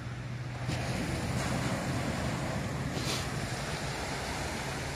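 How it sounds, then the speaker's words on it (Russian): Sea waves surge and wash continuously on a Turkish shore in autumn, a broad, steady roar with gusting wind buffeting the microphone. "Волны."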